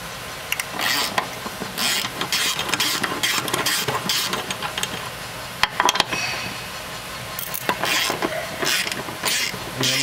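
A ratchet works on four 18mm transmission bolts, giving repeated bursts of close, sharp clicking and creaking mechanical rattles in uneven runs, with brief pauses between strokes.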